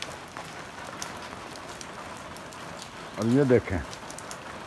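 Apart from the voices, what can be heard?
light rain falling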